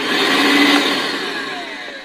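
A DeWalt DCV580H 20V cordless vacuum cleaner runs with a steady, loud whirring hum. The pitch drifts slightly downward as it winds on, with no voices.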